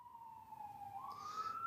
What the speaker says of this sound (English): Let me wait till this ambulance thing goes by.